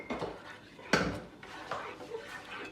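A utensil whisking egg with citrus juice in a bowl for spiced bun dough, making a few clinks and scraping knocks against the bowl, one sharper strike standing out, with faint background murmur.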